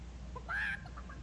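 A short cartoonish chicken cluck from the Hearthstone card game, a single bright squawk lasting about a quarter second over quiet game background sound.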